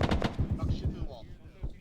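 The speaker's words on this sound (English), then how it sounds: "shoot through the wall" Rapid bursts of automatic gunfire from a military video game, fired through a wall, crackle in quick succession up close and thin out toward the end.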